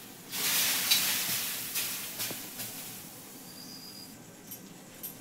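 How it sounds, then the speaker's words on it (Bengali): Salt water sprinkled onto a rumali roti on a hot pan gives a burst of hissing steam that slowly fades, with a few faint crackles. "আমি একটু নুন জল ছড়িয়ে দিচ্ছি।"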